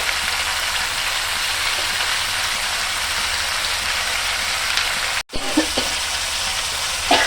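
Cauliflower fries in a pan with a loud, continuous, close-up sizzle, briefly cut off and then resuming with a few light stirring clinks.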